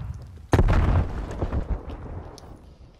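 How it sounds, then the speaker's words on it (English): A grenade explodes in the video game Call of Duty Cold War during a team deathmatch: one sudden, loud, close blast followed by a rumbling tail that fades over a couple of seconds. "Throwing grenade."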